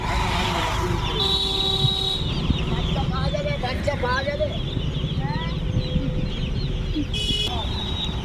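High-pitched cheeping and peeping from many small broiler chicks, overlapping and continuous, with occasional clucks, road noise and brief voices in the background.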